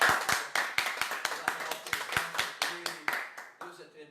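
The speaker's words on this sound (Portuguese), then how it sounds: "Que você possa aplaudir o Espírito Santo de Deus mais uma vez" Church congregation at a worship service clapping together in a steady rhythm, crisp and close, with faint voices and tones beneath, thinning out toward the end.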